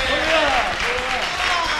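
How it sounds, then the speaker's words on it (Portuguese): Applause from an audience of children at a children's show, clapping under raised voices talking over it, brief and fairly loud. "Vamos aplaudi-lo."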